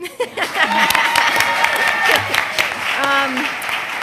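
Clapping from the audience at a school board meeting runs steadily under a voice, with other voices mixed in.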